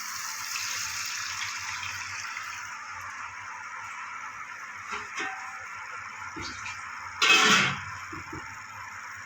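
Water poured into cooked spiced masala for an egg-potato fritter curry, a faint steady trickle that swells into a brief louder splash near the end.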